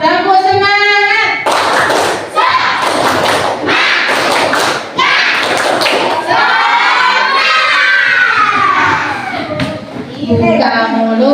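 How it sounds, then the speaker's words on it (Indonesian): Elementary schoolchildren at an Indonesian school orientation clap together in a rhythmic spirit-clap routine, bursts of loud unison claps and thumps mixed with excited shouting, with an adult voice leading between the claps. "Coba tepuk semangat."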